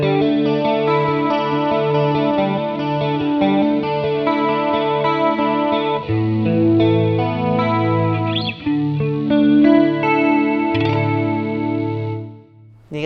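A clean electric guitar tone played through a NUX B-8 wireless system before any boost rings out as sustained, chorus-tinged chords with a shimmering, echoing quality, loud and steady, fading out at the end.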